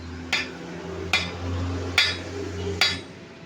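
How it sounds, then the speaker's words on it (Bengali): An axe being repaired by hand in a workshop: four sharp metallic strikes land at an even, unhurried pace, close and clear, over a steady low electrical hum. "মোহাম্মদ মেহেদি হাসান মিরাজ কি সুন্দরভাবে কুড়াল ঝালাই করতেছে"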